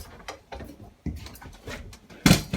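Folding dinette table legs on a 2016 Chaparral 336 boat give a few soft mechanical clunks and knocks, with one sharper thud near the end, heard close up.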